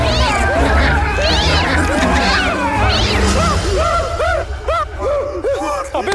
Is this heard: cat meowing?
yes